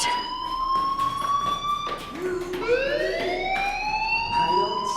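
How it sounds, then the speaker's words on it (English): A fire alarm rings in the video game Life is Strange as a steady, loud electronic tone that shifts pitch partway through, sounding alone and close. "Hey, do you hear that fire alarm? That means you should be outside."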